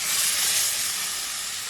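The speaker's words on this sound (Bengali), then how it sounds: "এবার আমি জল দিয়ে দেবো।" Water poured into a hot pan of catla fish curry hisses and steams in a steady, loud rush, close and continuous with no voices.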